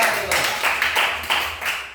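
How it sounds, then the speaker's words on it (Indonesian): A classroom group claps hands together to applaud a team of students after their presentation, a steady burst of many palms lasting about two seconds, close and fairly loud. "Kita tepuk tangan untuk kelompok"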